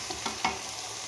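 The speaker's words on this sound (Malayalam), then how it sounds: "നമ്മൾ ഇഞ്ചിയും വെളുത്തുള്ളിയും ഉള്ളിയും പച്ചമുളകും എല്ലാം ഇവിടെ നല്ല വഴണ്ടുകൊണ്ടിരിക്കുകയാണ്." Ginger, garlic, onion and green chilies sautéing in a pan, a soft continuous sizzle with a few faint stirring scrapes, brief and fairly quiet.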